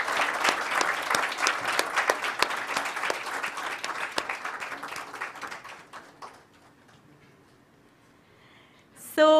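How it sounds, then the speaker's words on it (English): An audience at an event for entrepreneurs applauds with a dense, loud burst of clapping that gradually thins and fades to scattered claps and silence. "And let's give them a big round of applause."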